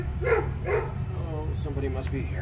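A dog gives two quick barks in a workshop during a Massey 461 tractor hub repair, followed by a person speaking over a constant low hum.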